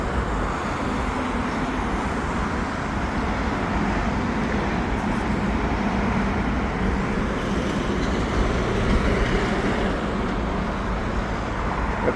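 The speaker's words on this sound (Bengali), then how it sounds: "মেট্রো যাচ্ছে।" A metro train runs along a line through hills in rural South Korea, heard from above as a continuous broad rumble and rush of wheels and air that holds steady throughout.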